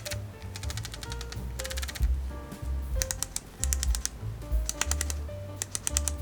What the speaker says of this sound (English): when you turn the dials, it makes a very satisfying click